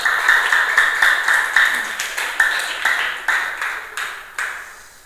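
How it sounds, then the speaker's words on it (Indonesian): A classroom of students claps for a group, a quick rhythmic patter of hands in steady bursts that repeat and fade toward the end. "tepuk tangan untuk kelompok Neptunus"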